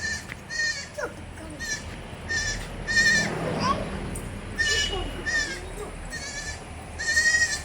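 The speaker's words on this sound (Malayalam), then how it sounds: "പാല് കൊടുത്ത് വളർത്താൻ പറ്റിയ നാല് ദിവസം പ്രായമായ ഒരു പെടക്കുട്ടി" A four-day-old female goat kid on a farm in Peravoor, Kannur, bleats repeatedly in short, high calls spaced through the clip, fairly close, over a busy rural background with faint voices.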